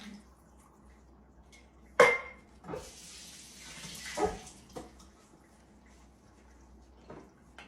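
Water poured into a sauce pot for spaghetti meat sauce in a few short, splashy gushes, with a light clink of metal in between and no voices.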